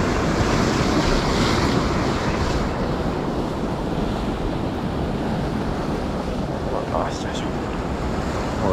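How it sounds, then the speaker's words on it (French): Big ocean waves crashing and surging in a continuous loud roar close by, with strong wind buffeting the microphone throughout. "les vagues sont impressionnantes."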